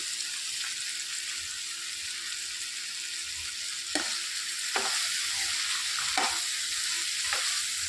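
Potatoes and tomatoes sizzle in a pan under a constant hiss, with a few distinct stirring scrapes in the later part and a faint steady hum in the background.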